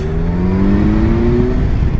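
A 2017 Kawasaki Versys 1000 motorcycle pulls hard in third gear, its engine note rising steadily under load, loud and close from the rider's position with wind rush underneath.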